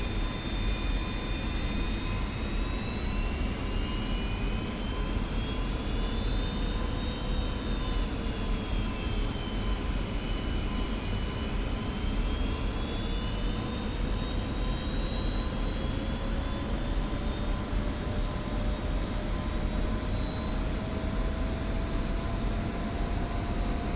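An F-86F jet fighter engine in the DCS flight simulator whines and roars steadily at close range while taxiing at 65 to 70% RPM, its high-pitched tone slowly rising and falling without pause.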